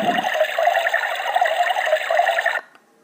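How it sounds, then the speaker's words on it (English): Tap water runs steadily into a container for making tea, a continuous close splashing stream that stops abruptly near the end, with no voices. "Let's start with filling some water."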